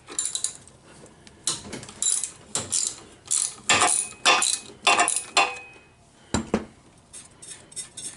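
A ratchet wrench loosens a 12mm bolt on a Yamaha G1 golf cart engine, rapid rasping clicks coming in repeated bursts of strokes, close and fairly loud, with brief pauses between pulls.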